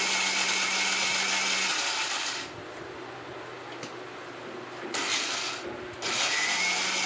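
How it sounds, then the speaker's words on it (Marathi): A mixer grinder coarsely grinding maize whirs loudly with a gritty grinding texture, stopping briefly in the middle and then starting again. "आता आपण मका मिक्सरमध्ये भरडत आहोत।"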